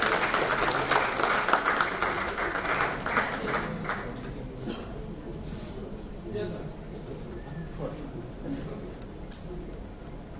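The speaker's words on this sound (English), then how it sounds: "Round of applause, everyone." Audience applause at a sports conclave in Ahmedabad, a broad patter of clapping loudest in the first few seconds, then thinning and fading toward the end with scattered claps and murmuring.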